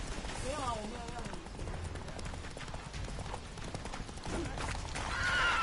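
Hooves of the horse Roach clip-clop at a gallop in The Witcher 3, with a whinny early on and game sounds mixed in, while voices talk over the action.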